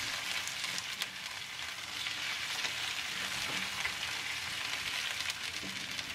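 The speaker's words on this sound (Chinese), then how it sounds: "锅里倒入油，油热以后把切好的莴笋片倒进去翻炒几下" Sliced celtuce stir-fried in hot oil in a wok, a steady close sizzle and crackle of frying running throughout with no talk.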